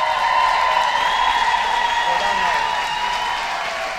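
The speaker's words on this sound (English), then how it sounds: "would you please give them a huge round of applause" An audience claps and cheers for the dancers at a Strictly Silvermines dance event. The loud, steady applause comes with a few whoops and some crowd voices, then eases off slightly toward the end.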